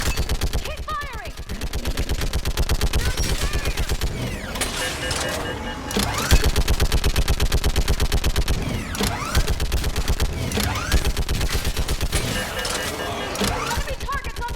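Sustained automatic gunfire in the Mass Effect 3 battle on Thessia, rapid close bursts rattling almost continuously with heavier impacts and explosions mixed in, while voices shout over the combat.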